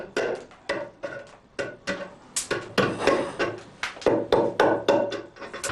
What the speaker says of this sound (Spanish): Adolfo rebaja con el martillo y el formón la madera sobrante de los lazos